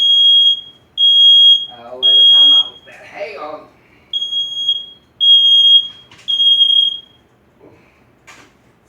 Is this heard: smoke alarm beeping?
yes